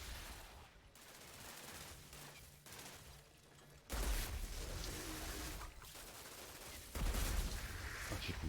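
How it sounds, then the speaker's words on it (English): Rifle gunfire from the video game Outriders, loud bursts of shots in dense rattling volleys that cut in and out over a noisy game soundscape. "just fire a couple of bullets"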